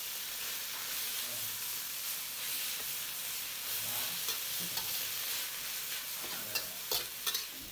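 Garlic, fermented soybean paste, sliced celery and red chili stir-fry in a hot pan for a tilapia and celery dish, giving a close, continuous sizzle with light scraping from the stirring.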